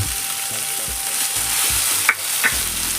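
Cooked country chicken is stirred into sizzling masala in a pan; a loud, steady fry runs under repeated scraping strokes, with a couple of sharp clinks of the utensil.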